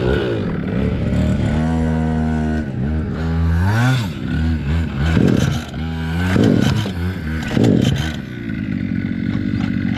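A mini quad's small engine revs up and down in several bursts, its pitch sweeping higher and falling back, close by and loud with a rattling idle between.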